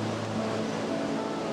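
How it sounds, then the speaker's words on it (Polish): Pivka river rushing into Postojna cave, a steady broadband roar of flowing water filling the whole moment with no breaks, close and continuous. "Z góry widoczna jest rzeka Piwka, wpadająca z szumem do jaskini."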